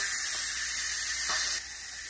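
A steady, loud hiss of steam rushing out of a pressure cooker under pressure, continuous throughout and easing slightly near the end.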